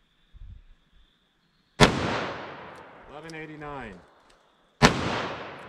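Two sharp, loud gunshots from a .327 Federal Magnum snub-nose revolver firing Hornady Critical Defense rounds in a ballistic test, spaced about three seconds apart, with a voice reading out a number between them.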